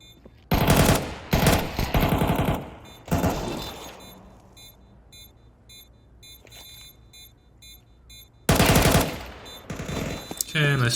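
Automatic gunfire from a Counter-Strike 2 match: several loud, dense bursts that start and stop sharply, with quieter gaps holding faint game ambience and beeps.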